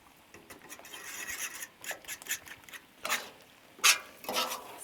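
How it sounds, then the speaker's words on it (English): Eggs cook on a Blackstone flat-top griddle while a metal spatula scrapes and stirs them, giving quiet irregular scraping strokes over a faint sizzle, with a few louder scrapes toward the end. "So I'm gonna scrape here and turn that down a hair. I don't want the eggs sticking to the Blackstone."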